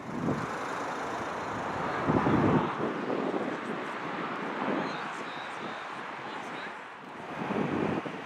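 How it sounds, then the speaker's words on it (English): A jet airplane arriving at Glasgow Airport roars in the distance with wind buffeting the microphone and people talking nearby. "There's a plane arriving now, but it's not the one we're waiting for"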